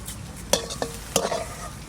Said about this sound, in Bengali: শাক ভাজা হয়ে গেছে, এবার তুলে নিই।